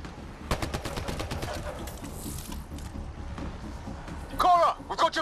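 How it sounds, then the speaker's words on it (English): Gunfire rattles in the sci-fi shooter Mass Effect: Andromeda, quick bursts of shots and mechanical clatter during a firefight, with voices speaking over the action. "Oh, okay, we're already firing."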